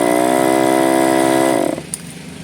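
An old small engine that has not run in a long time is cranked on its electric starter, giving a loud, steady whirring drone for under two seconds that winds down and stops, followed by a brief click.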